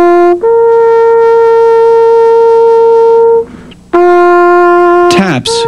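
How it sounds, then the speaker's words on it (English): A bugle sounds the opening notes of Taps, clear and loud up close, holding two long tones separated by a short breath, then a sudden clatter at the end. "So that the beginning of taps now that we know today sounds like this."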